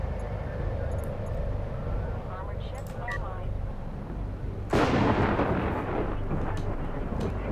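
Missiles landing in Homeworld: Deserts of Kharak, a single heavy rumbling impact after a quieter stretch of battle noise, loud and close, with talk heard underneath.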